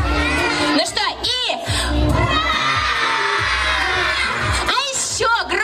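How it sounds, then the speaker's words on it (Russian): A crowd of children at an outdoor holiday concert for Children's Day shouts a loud, ragged cheer of hurray in several bursts, mixed with an adult presenter's voice and general crowd noise. "я когда руки вверх подниму, все вместе кричим «Ура!»"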